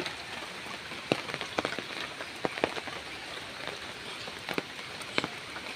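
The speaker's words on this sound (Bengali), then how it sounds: "অনেক বৃষ্টি হচ্ছে" Heavy rain pours down steadily in a flooded rural area of Bhola beside fish ponds, a dense constant wash with scattered louder drips and splashes close by, no talking.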